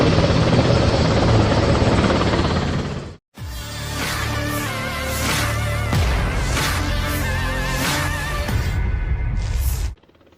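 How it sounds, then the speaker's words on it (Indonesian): An Israeli military helicopter landing at a hospital in Tel Aviv, its loud rotor thudding and turbine whine filling the scene, with a brief cut before the steady close roar resumes. "momen helikopter militer Israel atau IDF mendarat di sebuah rumah sakit di Tel Aviv"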